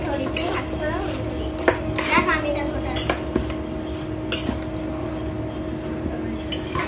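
Marinated meat stirred in a pot while cooking a gravy, with a spoon scraping and clinking against the pot in scattered taps over a steady sizzling background, as a person talks nearby.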